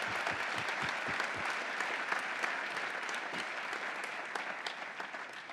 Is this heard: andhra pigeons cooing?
no